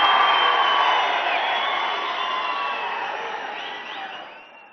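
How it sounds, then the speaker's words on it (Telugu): A large crowd at a public meeting in Huzurnagar welcomes Chief Minister Revanth Reddy with a loud, dense roar of cheering and clapping that slowly fades. "గౌరవ ముఖ్యమంత్రి రేవంత్ రెడ్డి గారికి స్వాగతం పలకడానికి అందరూ నిలబడి చప్పట్లు కొట్టాలని చెప్పి కోరుకుంటున్నా"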